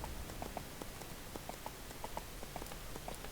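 Horse hooves clip-clopping at a steady riding gait in the fantasy game Everquest 2, a regular run of light, evenly spaced hoof beats at moderate distance with no talking.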